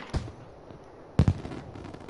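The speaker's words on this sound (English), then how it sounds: "I can't see the fireworks" Two bursts of video game fireworks go off, a single sharp pop followed about a second later by a louder double crack, over faint background ambience.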